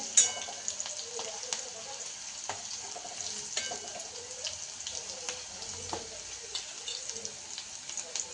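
Garlic and green chillies fry in hot oil for methi bhaji, giving a continuous close crackling sizzle with small pops and occasional stirring scrapes.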